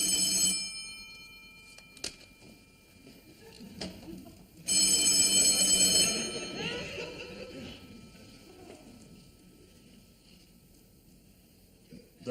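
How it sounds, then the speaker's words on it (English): A telephone rings indoors in a store boardroom setting, a bright burst of ringing for about a second and a half with fainter clicks and ticks around it, quiet room otherwise. "That's the phone."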